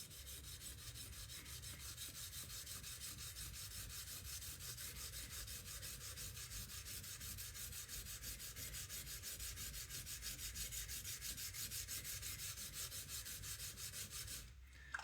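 A blade bevel is ground by hand on a coarse sharpening stone, with steady, continuous rasping strokes that scrape on at an even loudness for most of the time and break off near the end.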